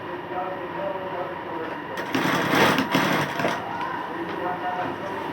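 A sewing machine stitching fabric, a rapid mechanical whirring that swells louder for about a second and a half in the middle, with a voice speaking around it.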